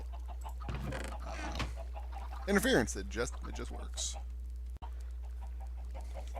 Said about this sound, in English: is my chicken farm with the chickens glitching